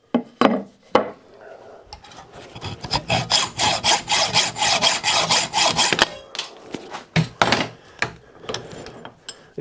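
Hand filing on a steel parting blade holder for a lathe produces rapid, rhythmic rasping strokes, loud and close, in a steady run of about a dozen scrapes with a few scattered strokes before and after.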